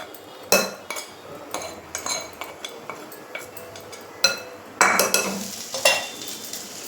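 Spoon stirring fried ingredients into flour in a bowl, repeated scraping strokes and sharp clinks against the bowl in an uneven rhythm, close and moderately loud, with no talk.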